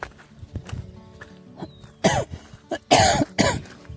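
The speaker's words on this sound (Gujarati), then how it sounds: "ઉધરસ થઈ ગઈ" Several harsh coughs in quick succession, loud and close, with quieter rustling and movement noise in the background.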